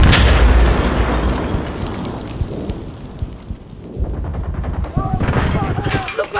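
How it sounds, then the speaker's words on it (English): Battlefield explosion in the shooter game Insurgency: Sandstorm, a loud close boom that rolls and fades, then more bursts of gunfire, with shouting voices over the din. "Explosive! Explosive! This will explode! Watch out!"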